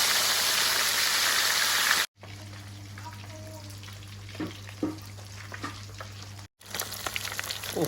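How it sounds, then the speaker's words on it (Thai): Grandma's salted fish frying in hot oil, a big fish caught in a net. A steady sizzle runs loud at first, then drops to a softer crackle with a low hum and scattered pops, and briefly returns loud at the end. "ปลาทอดจ้ะ ปลาหมดเทศทอดเนาะจ้"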